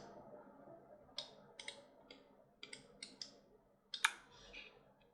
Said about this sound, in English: Then I'm gonna click here